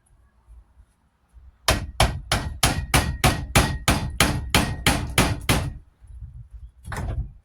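A hammer strikes the rear hub bearing of a 2006 Dodge Grand Caravan about a dozen times in a steady, loud rhythm of sharp metallic clangs, followed by a pause and one more hit.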